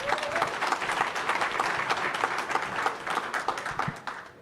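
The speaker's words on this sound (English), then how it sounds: "just a round of applause for our panelists" Audience applause for the panelists at a policy discussion on India, a dense, steady wash of many hands clapping close by for several seconds with no talk over it.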